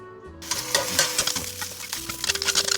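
Eggs fry in a covered cast iron pan, with a continuous close sizzle and crackle and small clinks of the lid and pan over it.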